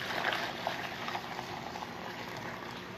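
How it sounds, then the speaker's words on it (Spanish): Water boils hard in a pot on a home stove for Puerto Rican tembleque, a steady bubbling hiss with small pops, close and continuous. "Ya tengo agua literalmente hirviendo."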